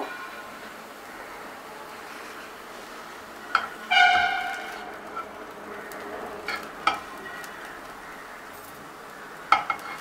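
Patishapta crepe frying in a pan gives a faint, steady sizzle, broken by a few sharp clinks and scrapes of a utensil against the pan, one a brief louder scrape near the middle.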